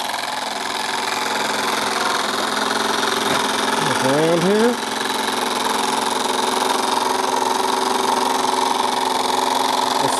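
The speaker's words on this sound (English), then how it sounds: "Got some steam going." A small model steam engine in a model boat chugs and hums steadily with a fast mechanical rhythm, and a brief whistle-like rising tone cuts in midway; someone speaks briefly.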